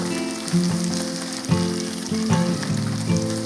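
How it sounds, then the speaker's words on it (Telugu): Steady, loud sizzling of ivy gourd pakodi frying in hot oil, a continuous crackling hiss with occasional brief pops and no talking. "తిప్పుతున్నానండి, బాగా కొద్దిగా ఫ్రై అయినాయి బాగా."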